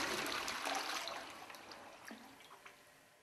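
A Caroma dual flush toilet flushes with a brief, fairly quiet rush of water that fades into trickling, heard alone.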